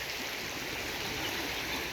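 A stream of water runs steadily after light rain near the bay marker at Sydney Olympic Park, a soft continuous rushing that stays even and fairly quiet with no voices.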